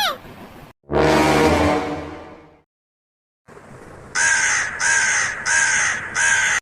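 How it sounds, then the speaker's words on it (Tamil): A crow in a Tamil cartoon caws in a series of loud, repeated harsh calls, four in quick rhythm after a longer rasping one, with no talk over them. "இந்த காக்காவோட இம்சை தாங்க முடியலையே"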